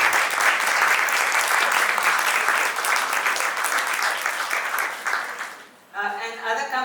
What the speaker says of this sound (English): may I ask all of you to give a round of applause for Frau Kakada.